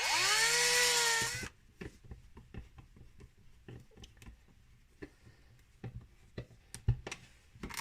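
A power drill boring 4.5 mm holes for number 6 screws whines up briefly at the start, loud and close, then stops, leaving scattered clicks and taps of handling.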